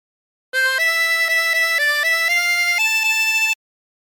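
A harmonica played without bends gives a short run of clear, steady notes for a phrase of For He's A Jolly Good Fellow, bright and close, beginning and ending abruptly with no speech.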